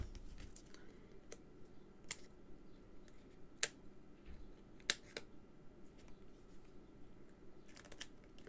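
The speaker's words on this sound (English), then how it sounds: "So I'm going to use the scissors now." Scissors snip paper for a party treat kit, a series of sharp quiet clicks and cuts spaced irregularly, close and faint against a soft room background.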